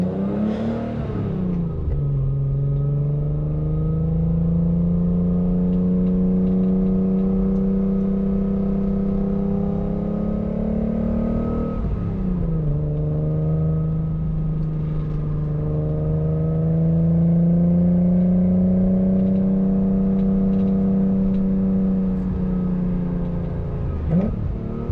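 A 1988 BMW E28 M5 pulls through two long acceleration runs from inside the car, the engine note climbing smoothly, dropping at a gear change near the middle, then rising steadily again, loud and close.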